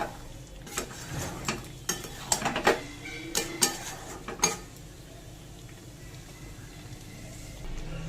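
A spoon scrapes and clinks against a pan as potato curry (aloo dum) with garam masala is stirred, with a cluster of sharp knocks in the first half over a low, quiet sizzle that continues alone afterward.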